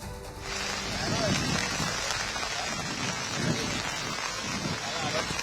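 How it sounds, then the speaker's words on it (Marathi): Heavy monsoon rain pours steadily at Marine Drive in Mumbai under a red alert, a dense wash of rainfall with soft low rumbles, while a reporter's voice carries on over it. "या सगळ्या परिसरात मुसळधार पाऊस सुरू आहे"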